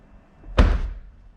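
Front door of a vehicle slammed once, a single solid close thud with a short ringing tail, loud and near.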